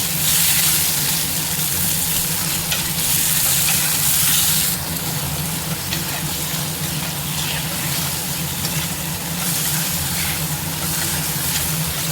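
Onion, tomato, ginger and garlic sauté in a pan, giving a loud, steady, close sizzling hiss that runs throughout without a break or any speech.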